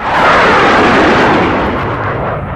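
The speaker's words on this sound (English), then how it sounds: "Okay, so we're gonna airstrike these guys." Airstrike blasts in the video game Vietnam '65 form one loud, sustained rumbling explosion that fills the whole moment and fades slightly toward the end, close and overpowering with no voices.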